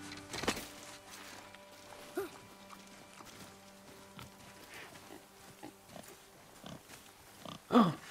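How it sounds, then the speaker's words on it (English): A pig in the video game God of War grunts and snorts intermittently over a quiet ambient background, with a louder squealing grunt near the end. "Let's go get that pig."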